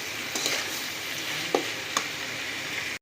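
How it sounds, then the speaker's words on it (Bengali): Spiced masala with turmeric powder frying in a pan for a Jharkhand mutton rugra curry, a constant hissing sizzle broken by a few soft stirring taps, close and steady, ending with an abrupt thud. "এবার ঢাকা দিয়ে দিয়ে এই মশলাটাকে আমরা খুব ভালোভাবে কষিয়ে নেব।"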